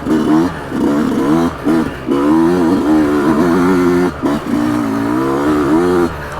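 A Yamaha YZ125X two-stroke dirt bike engine revs hard and climbs through the gears, its pitch sweeping up and dropping back with each shift and brief throttle cuts, loud and close.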